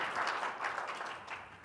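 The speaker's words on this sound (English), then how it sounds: "Let's give them a round of applause" Applause from a conference audience at a tech summit, a quiet, even wash of many hands clapping together that continues throughout and sounds somewhat distant.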